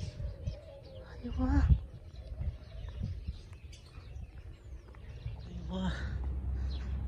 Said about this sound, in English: Oh, this one is a bird's house. There's a lot of birds inside.